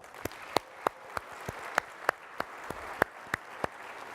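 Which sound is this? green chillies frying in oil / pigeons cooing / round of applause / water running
round of applause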